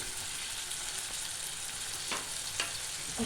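Tomato and chili sauté in hot oil in a pan for a dhaba-style egg tarka, a steady loud sizzle filling the whole moment, with a couple of faint scrapes from stirring.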